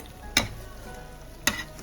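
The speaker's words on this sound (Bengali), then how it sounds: "আমি এবার একে একে রুটিগুলোকে দিয়ে দেবো। একটু লালচে লালচে করে ভাজা ভাজা করে নেব।" Bread slices frying in a pan, a soft continuous sizzle broken by two sharp clacks about a second apart, close up with no talk.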